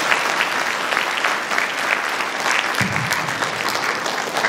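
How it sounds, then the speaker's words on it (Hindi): Loud, sustained applause from an audience at a convent feast-day gathering for St. Angela Merici, dense clapping heard alone and up close. "सबों के लिए स्वागत के स्वरूप चलिए जोरदार ताली बजाएं।"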